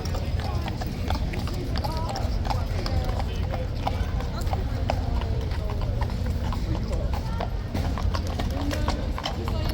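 A small dark bay horse walks along, its hooves clip-clopping steadily amid a dense, noisy crowd with people chattering throughout.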